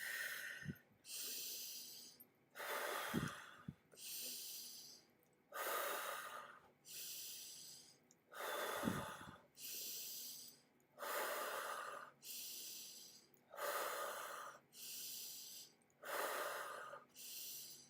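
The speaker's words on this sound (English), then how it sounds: "So just breathing in and out, in and out, and keep that cycle going." Deep, slow breaths in and out during a guided meditation, each inhale and exhale a rough airy rush close to the mic, repeating in a steady cycle about a dozen times against quiet background.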